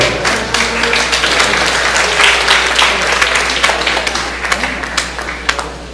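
A conference audience at a national congress in Peru breaks into loud, sustained applause, dense clapping holding steady throughout at close range.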